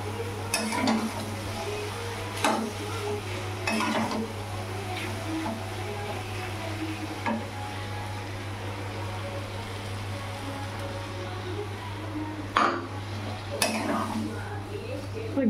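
Food stirred in a pan over a gas stove flame, occasional scraping and clinking strokes over a steady low hum and faint sizzle.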